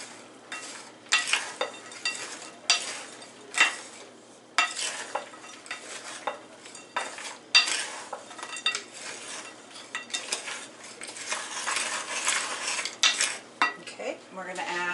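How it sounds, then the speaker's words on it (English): A metal spoon stirs raspberry pie filling in a bowl, making repeated close scraping, clinking strokes in an irregular rhythm. "Let's take a spoon and mix all this up first"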